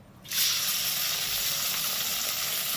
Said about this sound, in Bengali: তেলটা এমনি গরম আছে ওর মধ্যে দিয়েছি টমেটো